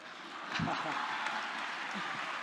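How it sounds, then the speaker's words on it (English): Audience applause at a book release event, a steady, moderately faint wash of clapping that swells after a brief quiet start and continues evenly. "thank you so much for such generous, warm applause and welcome"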